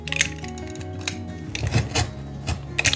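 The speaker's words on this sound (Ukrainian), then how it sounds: "Зараз вирізаю ось ці отвори" Scissors snip holes in cardboard while making a bead and thread organizer, giving a few sharp, close crunching cuts with short pauses between them.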